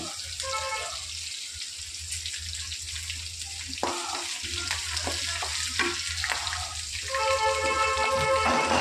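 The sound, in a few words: sesame seeds and cumin seeds sizzling in hot oil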